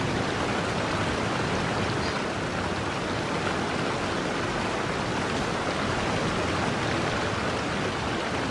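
Steady broadband rush of a waterfall in the Genshin Impact video game, continuous and even in loudness, with no voices or other sounds over it.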